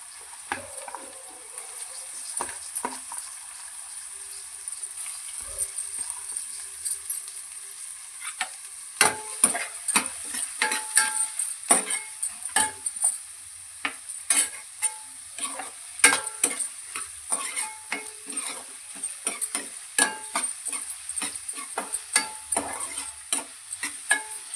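Onions and curry leaves fry in a pan of oil after cumin and mustard seeds for an egg curry, giving a steady close sizzle broken by frequent sharp crackles and stirring clatter, with no talk.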